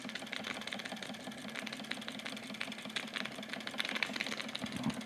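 Wilesco D455 double-action toy steam engine running steadily, a fast, even mechanical chuffing and rattling beat, close and fairly faint, with no talk.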